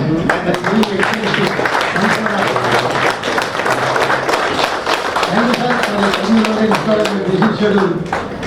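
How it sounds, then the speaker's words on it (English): A standing ovation from the audience at a Lions Club zonal conference: dense, steady clapping from many hands fills the room for several seconds, loud and continuous, with voices murmuring and calling out underneath. "Request everybody to give a standing ovation."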